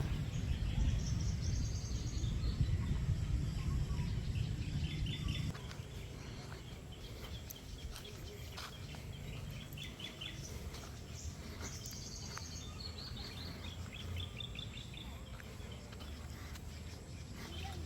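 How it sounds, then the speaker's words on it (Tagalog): Several birds chirping and calling on a farm, scattered high twittering phrases at a moderate distance over a constant low outdoor hum, louder rumbling background for the first few seconds, then quieter. "Daming kumakanta ng ibon guys."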